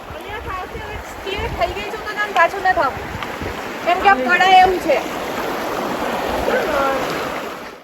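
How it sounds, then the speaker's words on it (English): Feet wade through icy river water in Zanskar during a winter trek, a steady rushing splash and slosh throughout with several voices talking over it. "We are walking in the cold water of Zanskar."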